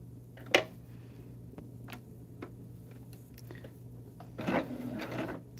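A sewing machine stitches a quilt: a few light ticks and clicks, then a short, busy burst of stitching near the end, close and moderately loud over a steady low hum.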